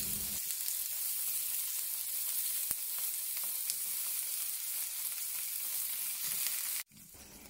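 Firm tofu pan frying in hot peanut oil in a non-stick pan, giving a steady, loud crackling sizzle that runs almost the whole time before cutting off abruptly near the end.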